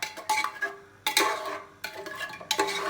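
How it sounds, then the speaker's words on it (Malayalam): Salt being stirred into chicken in a cooking pot for Dindigul Thalappakatti biryani: a spoon scrapes and clatters against the metal pot in several bursts of strokes, close and fairly loud. "ഈ ഉപ്പൊക്കെ നന്നായിട്ട് ഇളക്കി കൊടുക്കണം."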